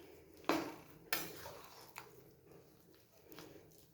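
A spatula scrapes and knocks in a pan while besan and milk powder are mixed into sugar syrup for barfi, with a few sharp clatters early and softer scraping after, close and alone.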